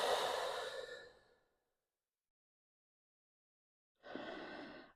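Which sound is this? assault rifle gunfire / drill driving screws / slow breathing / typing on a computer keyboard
slow breathing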